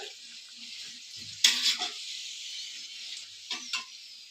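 Potatoes fry in hot oil in a wok. A soft, steady sizzling hiss carries on throughout, broken by a few brief bumps, and stays fairly faint with no speech.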